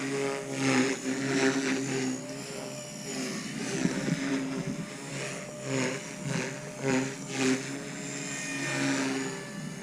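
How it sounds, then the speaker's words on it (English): A 180-size micro RC helicopter with a belt-driven tail hovers and flies, its rotor giving a steady high whine that swells and fades gently as it moves nearby. "for being a 180, this helicopter is super floaty"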